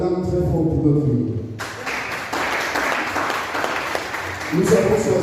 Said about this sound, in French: Je vais demander qu'on acclame très fort pour Catherine.